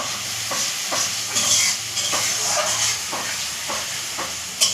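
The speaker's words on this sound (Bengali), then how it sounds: "আমি মশলাটাকে হালকা করে কষিয়ে নেবো আগে।" Spice paste sizzling and frying in a hot pan for a Bengali pui shak dish cooked with fish head, a steady hiss with periodic stirring scrapes, close and loud, no talking.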